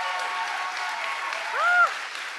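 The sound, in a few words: applause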